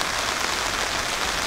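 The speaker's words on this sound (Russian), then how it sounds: "Дождик, видите, идем под зонтами." Steady rain falling on Ko Chang island in Thailand, a dense hiss of drops heard close and alone, with no voices.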